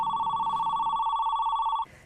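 A telephone rings with a steady electronic trill, loud and close, holding for nearly two seconds before cutting off abruptly, with no voices.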